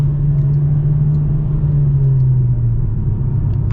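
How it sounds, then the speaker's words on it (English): A 2023 Mercedes-AMG CLA 45 with a four-cylinder engine accelerates in comfort mode, a loud, steady cabin rumble with the engine note dropping slightly as the transmission downshifts, no talking. "Pretty dang responsive with those downshifts."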